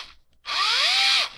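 A Fanttik NEX L1 portable electric screwdriver whirs briefly, its small motor spinning up quickly to a steady high-pitched whine for under a second, then cutting off, loud and close.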